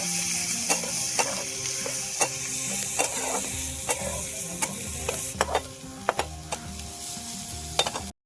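Finely chopped onion sautéing in a pan for spicy dry bombil, with a constant gentle sizzle and a rhythmic series of spatula scrapes and taps against the pan, close and moderately loud.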